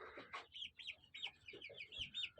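Young chicks peep high and continuously while a brooding hen clucks in short, low bursts beneath them, all close by with no talking.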